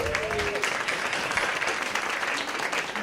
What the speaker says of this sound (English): let's give them a hand of applause, please